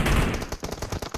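Rapid automatic gunfire in a video game battle, a quick burst of close, sharp shots in an even rhythm lasting about a second.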